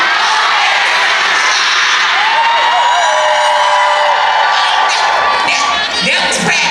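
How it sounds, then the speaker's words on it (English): A small group cheers loudly right after a countdown, with overlapping whoops and raised voices that hold strong for several seconds before tapering at the end. "And then we're gonna cheer after we say it, okay?"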